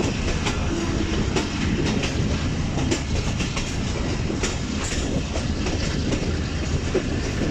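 The Mehr Express passenger train runs along the tracks, keeping up a loud, steady rumble with rhythmic clickety-clack from the wheels passing over rail joints, heard up close with no talk.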